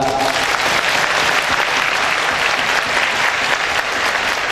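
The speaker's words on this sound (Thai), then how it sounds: "ยอดเยี่ยมปรบมือดังครับ" Loud, sustained applause from an audience at an executive development session, a dense, even roar of many hands clapping throughout, with a faint voice early on.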